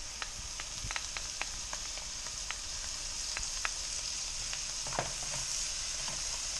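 Mushrooms frying in olive oil with spices, garlic and butter, a steady fine sizzle with scattered pops and crackles, close to the pan and moderately quiet throughout.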